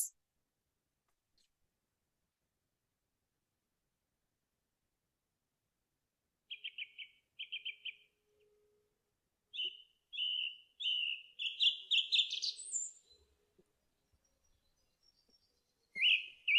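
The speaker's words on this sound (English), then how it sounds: "So many birds are calling from the trees." Birds calling from trees near a river, including a thrush whistling; short bright chirps and whistled phrases come in scattered bursts against near silence.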